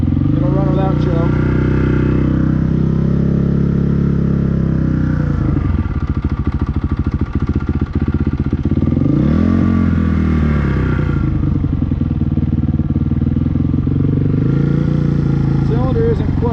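A Honda CRF450R motorcycle engine idles loudly and steadily with the choke off, close up, its low rumble shifting pitch slightly with small throttle changes throughout.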